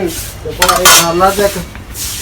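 Glasses and plates clink and rattle together in a shop as items are handled, a close, loud burst of ringing knocks and scrapes in the middle, quieter at either end.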